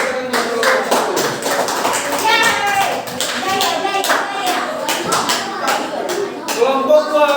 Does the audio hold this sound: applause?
yes